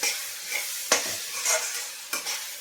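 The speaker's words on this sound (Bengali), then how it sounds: "আমি একটু রসুন দিয়ে দেবো চিকেনটার জন্য, আর আদা দিয়ে দেবো, দিয়ে এটা ভালো করে নেড়ে দেবো।" Chicken with garlic and ginger sizzling in a pan, stirred by a spatula in a few scraping strokes over a continuous crackle, close and alone.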